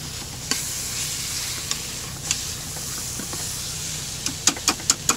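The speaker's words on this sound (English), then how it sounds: "That's one of the problems with stirring this up with a whisk" A whisk stirs a mixture against a bowl or pan beneath a soft, steady sizzling hiss, with scattered light clinks that cluster into quick, sharp taps near the end.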